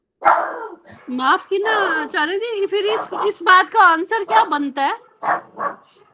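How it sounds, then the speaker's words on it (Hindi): A dog barks in the background, partly masked by a man's steady speech running over nearly the whole stretch. "वहां पर कुत्ता भौंक रहा है वहां पे"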